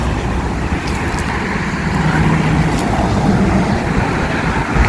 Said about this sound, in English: as usual we are on a major road, Old Northern Road at Dural